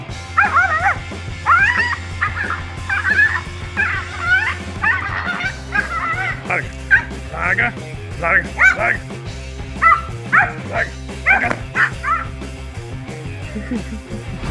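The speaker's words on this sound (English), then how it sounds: "A tiny dog quickly regretted messing with the tegu lizard when it suddenly had enough of its annoying barking" A small dog barks repeatedly at a tegu lizard, with sharp yips and a few whimpers in uneven bursts, close and fairly loud over a low background hum.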